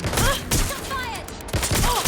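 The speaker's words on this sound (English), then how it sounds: "Shots fired!" Bursts of gunfire from the video game Watch Dogs, three loud clusters of shots at the start, middle and end, with voices talking in between.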